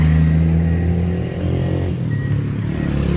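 Engine of a 2008 Toyota Corolla 2D car running steadily with a loud, continuous low rumble and hum, close by and without talk.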